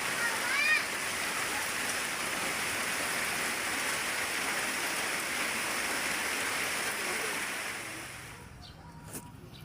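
Heavy rain falls steadily outdoors by rice paddies where a canal is being dug, a dense continuous hiss with a brief voice near the start, fading sharply in the last second or so.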